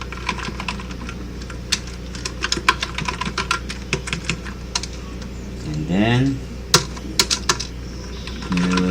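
Rapid keystrokes clatter on a computer keyboard in uneven bursts, close up, with a brief spoken phrase partway through.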